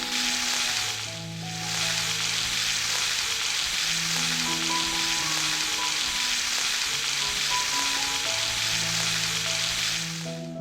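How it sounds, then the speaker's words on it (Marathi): A second batch of bangda, Indian mackerel, frying in hot oil over a wood-fired stove, a dense, loud, continuous sizzle that dips briefly near the start, with faint tonal hum beneath and no speech. "सेट 2 बांगड्यांचा फ्राय करायला टाकलेला आहे"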